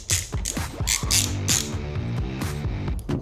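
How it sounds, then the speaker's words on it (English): A ratchet wrench tightens the grip module on a Harley-Davidson Forty-Eight Sportster, giving rapid, close, crisp clicking in several bursts with brief pauses between strokes. "We can go ahead and tighten back up our module here."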